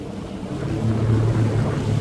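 Jet ski engine accelerating on open water, a low rumbling drone that swells in loudness partway through, with wash and wind noise around it.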